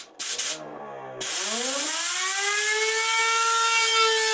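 Lego bladeless turbine with PLA Tough discs spins up on 60 psi air after a few short bursts, its whine rising into a loud, steady high-pitched scream with a hiss of rushing air.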